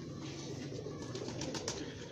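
Pigeons coo softly in a loft among a steady murmur of background noise, with a few faint wing and movement sounds and no talking.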